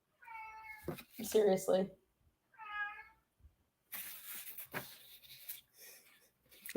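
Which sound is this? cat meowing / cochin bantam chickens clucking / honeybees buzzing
cat meowing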